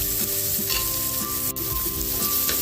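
Onion sizzles steadily in a hot pan for a pork dinuguan, with occasional stirring scrapes and clinks over a constant frying hiss, close and fairly loud, no talking.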